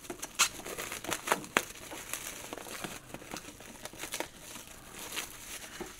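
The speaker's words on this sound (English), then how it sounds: "Then you can pull this plastic off." Protective plastic film peeled off a PopShield protector for collectibles, a close crinkly stream of sharp crackles and rustles, alone with no talking.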